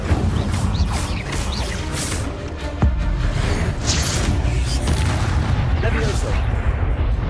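The Incendio fire spell in the video game Hogwarts Legacy bursts out as a loud, dense roaring whoosh with a sharp boom partway through, filling the whole stretch without a break.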